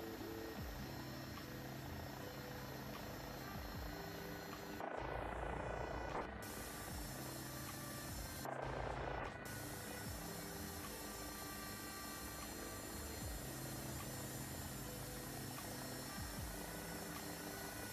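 Helicopter lifting off as the collective is gently raised, a loud continuous rotor and engine drone with steady whine, close and unbroken apart from two brief dropouts, no talking.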